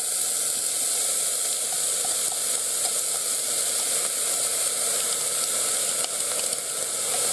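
Onions sizzle steadily in avocado oil in a pan, a close, even hiss that keeps going with no breaks and no talking.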